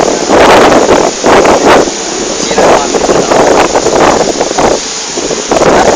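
Strong gusts at the BayWalk buffet the microphone in rough, surging bursts, with a brief voice heard over the roar.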